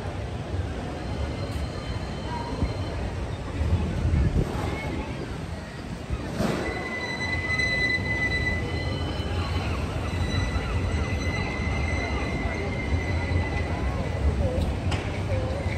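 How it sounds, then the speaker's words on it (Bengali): A steady rumbling tram rolls past in Birmingham, England, with a drawn-out metallic hum and squeal, continuous throughout, while a voice speaks over it outdoors. "আমার পিছনে ট্রাম,"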